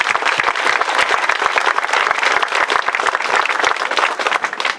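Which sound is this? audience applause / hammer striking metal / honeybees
audience applause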